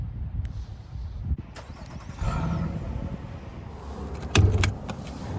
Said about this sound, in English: To actually remote start the car, you have to lock it once and then hold the remote start.